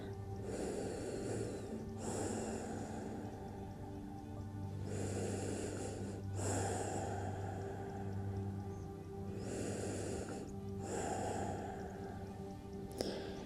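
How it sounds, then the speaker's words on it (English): Slow, deep breaths in a resting yoga pose with forehead on crossed arms, each long airy inhale and exhale drawn out over several seconds in a steady cycle and heard up close without talking. "Taking a few breaths just to reset."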